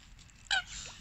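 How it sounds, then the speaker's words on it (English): A goose-like waterbird at a lake, being fed rice, gives a single short honk midway, close and moderately loud over quiet outdoor background. "Oh, it's a different kind of bird, though."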